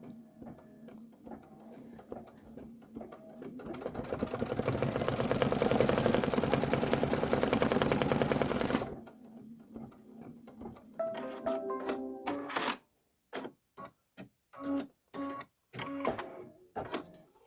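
Embroidery machine stitching a cupcake candy detail: a steady, rapid mechanical needle chatter runs for several seconds, then breaks into shorter stop-start stitching bursts with clicks and pauses.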